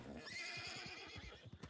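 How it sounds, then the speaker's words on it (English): A Kentucky Saddler horse in the video game Red Dead Redemption II lets out a loud, close whinny with strained, wavering tones over the thud of hooves, with no talking. "Yep, spook the horse."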